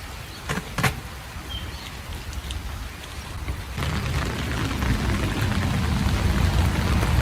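Steady rain falls over a garden of young mango trees, a dense hiss that grows heavier and louder partway through, with a few sharp drip taps early on and no voices.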